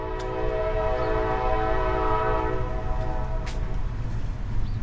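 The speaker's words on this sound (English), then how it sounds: "I hear that train, I hear a train in the background." A train horn sounds in a long, sustained blast over the low rumble of rail traffic somewhere off in the background of a walk through Dalton, Georgia; no one speaks.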